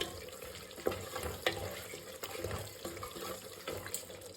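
Rice being rinsed under a running kitchen tap while masala kuska is cooked, a steady close splash and trickle of water with soft stirring, no voices.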